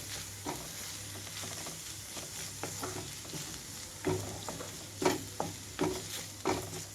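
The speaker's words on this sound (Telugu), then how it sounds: "లో ఫ్లేమ్లోనే ఉంచి కారం మొత్తం కలిపేసేస్తున్నాను." Chilli powder being stirred into a cauliflower fry over a low flame: a steady soft sizzle with scraping stirs and a few louder spoon knocks against the pan toward the end.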